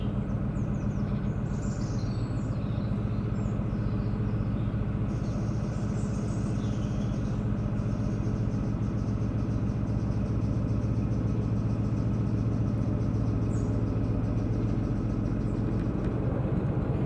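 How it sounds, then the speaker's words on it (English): A narrowboat engine on the Shropshire Union Canal chugs steadily at close range with a continuous low rattling drone and no talk, faint birdsong above it. "There's that engine rattle come back. It's been quiet for a few trips and then suddenly it reappears."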